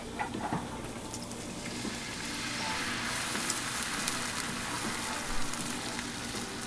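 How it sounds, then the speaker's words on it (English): Evaporated milk hits a hot pan for a cheese sauce, giving a steady, fairly loud broadband sizzle that holds for several seconds, with small crackles scattered through it and no voices. "You see it sizzled even though it wasn't on."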